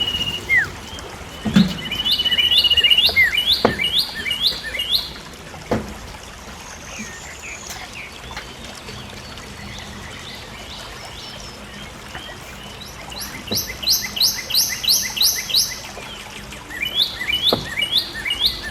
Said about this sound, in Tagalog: Di po ba nakaka-relax yung huni ng ibon dito